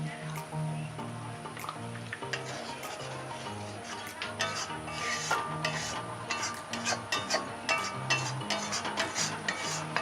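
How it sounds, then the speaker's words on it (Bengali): Spice masala with salt, turmeric and Kashmiri chilli powder sizzling and being stirred in oil in a pan for shahi paneer, a steady fry with irregular scraping and clinks of the spoon, close and continuous under a faint musical bed. "মশলাটাকে ভালো করে কষিয়ে নেব যতক্ষণ তেল না ছাড়ছে"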